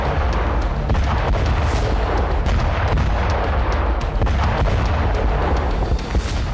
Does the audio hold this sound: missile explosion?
yes